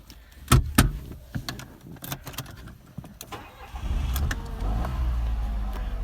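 A Renault Sandero is started. Several sharp clicks and knocks come first, then the engine cranks and catches at about four seconds and settles into a steady, close idle with no talk.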